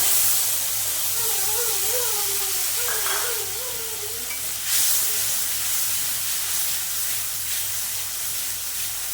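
Mustard paste hits hot oil left from frying pomfret, along with whole cumin seeds, giving a strong, steady hiss and sizzle that runs throughout, with a faint voice briefly in the background.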